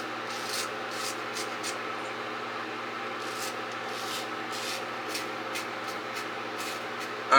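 A 1930s King oscillating razor rubs and scrapes across skin in a steady close-up, with faint repeated brushing strokes throughout and no talking.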